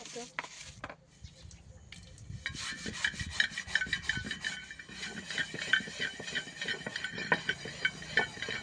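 Steady rhythmic scrubbing of an iron tava griddle that had sat outdoors for days, a gritty back-and-forth rasp, close and fairly quiet, with a few knocks at the start.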